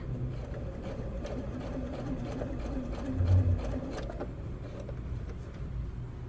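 A sewing machine stitches the pockets of pajama pants, running in a steady close whirring hum for several seconds without speech.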